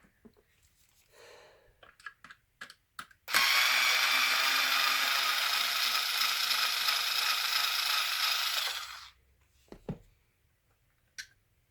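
Screws being backed out of the rear bulkhead of a Traxxas E-Revo 2.0 RC truck: a few short clicks, then one sustained, loud ratcheting whir for about five seconds, followed by scattered small taps.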